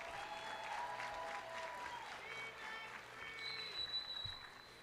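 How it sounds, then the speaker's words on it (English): An outdoor commencement audience claps in sustained applause that holds steady for several seconds and then begins to taper, with faint voices and a whistle mixed in. "Give them a round of applause."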